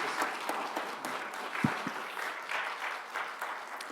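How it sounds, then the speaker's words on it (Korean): Congregation applauding in a church after a deacon's testimony at a Friday evening service, a steady broadband patter of many hands, moderately loud, lasting throughout without talk. "집사님 영광의 박수 올려드립니다"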